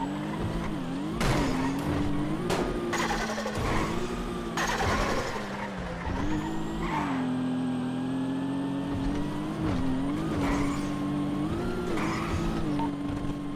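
A racing pickup truck driven hard in GTA V: a loud, continuous engine that revs up and steps down through gear changes, with repeated tire squeals and skids throughout.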